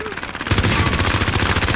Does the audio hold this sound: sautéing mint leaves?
no